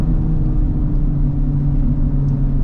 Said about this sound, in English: you can definitely hear, again, all the pops and gurgles of that variable exhaust in there